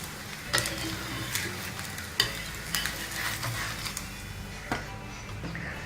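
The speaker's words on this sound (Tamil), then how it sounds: "இப்போ தோசையை திருப்பி போட்டுக்கலாம்" Bread dosa sizzling on a hot pan as it is flipped, a steady frying hiss with a few sharp scraping clicks and taps of the spatula, fairly close and with no voices.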